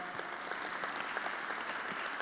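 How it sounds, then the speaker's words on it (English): Town hall audience at a Gamesa plant in Fairless Hills, Pennsylvania, breaking into steady, dense applause, a continuous wash of many hands clapping at even loudness throughout with no speech. "I noticed some folks clapped"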